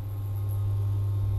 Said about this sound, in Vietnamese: khi mà các bạn sử dụng bếp ấy, nó kêu ù ù rất khó chịu